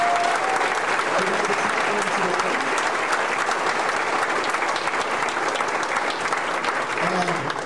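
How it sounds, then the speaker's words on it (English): Audience applause for student musicians at an Iowa bandmasters convention, a dense, steady wash of clapping from a large crowded room that holds evenly throughout. "So a big round of applause for all of our students."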